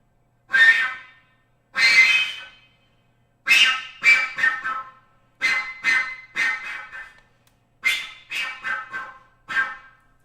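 Bursts of breathy, high-pitched flute jet whistles in short separate blasts, some rapid runs of three or four, alone with silence between.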